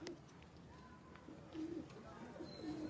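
Pigeons of a rare Jhang-road breeder strain coo softly in a loft, several low rolling coos repeating at a moderate distance against a quiet background murmur.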